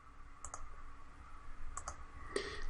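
Computer mouse clicks at a desk, three crisp close clicks spaced out over a low steady hum, with no talking.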